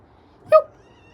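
A single short, tonal meow comes from a cat outside a front door in cold weather, close and clear against near silence.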